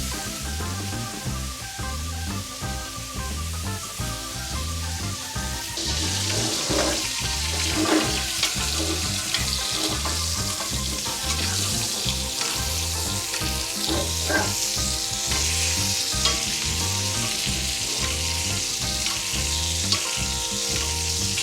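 Steak sizzles loudly in a pan with about three tablespoons of butter on its last flip, a dense, steady crackle and spatter that runs close and continuous, briefly rising in intensity, with no voices.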